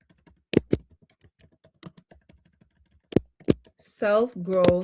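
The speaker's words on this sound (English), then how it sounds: "I'm typing it up." A computer keyboard is typed on in scattered, uneven keystrokes, with soft clicks and a few sharper taps close by. A voice begins talking near the end.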